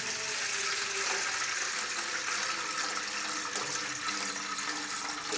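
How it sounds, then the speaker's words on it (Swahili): Water is poured steadily into a cooking pot for a Kenyan dish of cowpeas and sweet potatoes, a continuous close splashing rush that lasts throughout with no talk. "Haya, sasa unatia maji kwenye sufuria."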